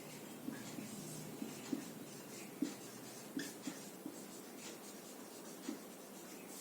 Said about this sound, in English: I am writing.